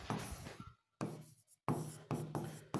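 Quick scratchy strokes of writing on a board in a reasoning class, coming in four short bursts with brief silent gaps between them, close and fairly loud, with no voices.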